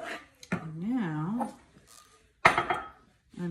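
Metal baking pans are handled in a home kitchen, with a loud clatter partway through while a person talks.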